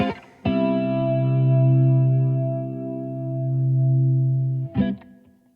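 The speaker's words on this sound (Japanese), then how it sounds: "機械のボーカルと生演奏のギターで、一応成り立ってしまいます" Vocoflex software renders an AI-generated, voice-changed singing voice over live guitar. One long, loud, effects-heavy sung note is held steady for about four seconds, framed by short bright attacks at the start and end, with no talking.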